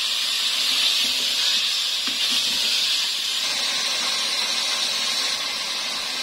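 Peeled, finely chopped tomatoes frying in a pan for chicken korma give a loud, steady sizzling hiss that holds constant throughout with faint crackles underneath.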